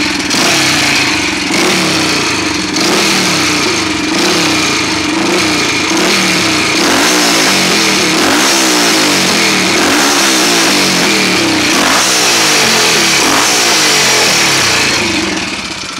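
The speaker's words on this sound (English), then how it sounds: "Royal Enfield 500 racer, now running on petrol instead of methanol." Royal Enfield 500 racer motorcycle running on petrol, fitted with a 40mm Mark II Amal concentric carburettor, its single-cylinder engine loud and close, revving and settling continuously throughout.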